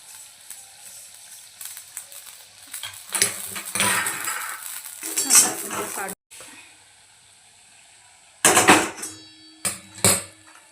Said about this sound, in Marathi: मी एक चमचा मोहरी टाकलेली आहे सुंदर पद्धतीने आपल्याला अशा पद्धतीने ही भाजून घ्यायची आहे